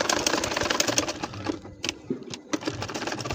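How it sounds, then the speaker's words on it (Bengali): A sewing machine stitches a baby nakshi kantha quilt in rapid, close mechanical bursts, pausing briefly partway through before the needle rattle resumes. "এখন দেখো এই যে একইভাবে আমি কিন্তু সেলাইটা করে নিচ্ছি"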